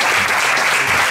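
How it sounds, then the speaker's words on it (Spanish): Audience applause after a talk on feminist men and masculinity in contemporary Spain, a brief, dense burst of clapping from the crowd. "un fuerte aplauso para Jesús."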